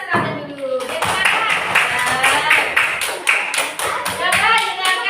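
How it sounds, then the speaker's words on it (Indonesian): A classroom group claps for a student, a steady burst of hand clapping mixed with children's and adults' voices talking over it. "Beri tepuk tangan untuk Mas Ramdan dulu"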